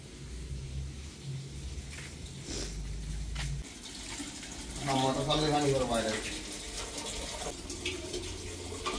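Water runs and splashes steadily while someone washes a motorcycle outdoors, a continuous gushing, spattering flow that swells midway, with a person talking over it.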